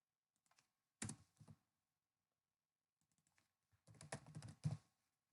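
Keyboard typing while entering C# code at a computer, a short burst of clicks near the start, then a pause, then a longer flurry of key presses, close and clear with no talking.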